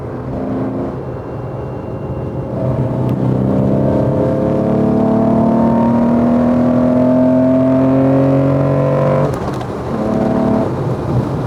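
A loud, close Porsche 911 engine revs and climbs in pitch, holding a deep throaty roar for several seconds before briefly dropping and picking up again.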